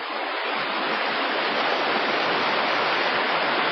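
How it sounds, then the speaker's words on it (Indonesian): Steady, dense roar of the Sigura-gura waterfall with its flow reduced, a continuous broadband rush of falling water heard alone and close throughout. "Deburan air terjun mulai mereda"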